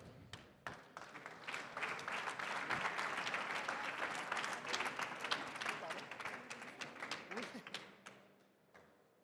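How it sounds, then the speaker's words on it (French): Applause breaks out from the audience at a natural stone building award ceremony during the housing prize, a soft swell of many hands clapping that builds, holds for several seconds, then fades out, heard fairly distant in a hall. "On peut les applaudir."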